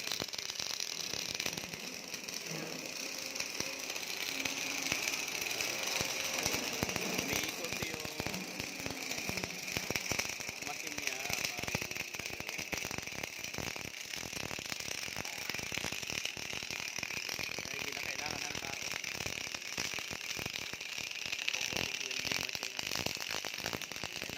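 A robotic gas welding machine in Japan runs with a continuous mechanical clatter of rapid clicks and ratcheting noise over a steady hiss, fairly loud throughout, with someone talking at times.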